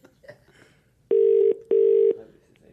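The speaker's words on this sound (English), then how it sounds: "Should we ring Ian Smith? Let's ring Ian Smith." A telephone call placed from a phone rings out in two long, loud, steady electronic tones separated by a short gap, with faint background chatter before and after.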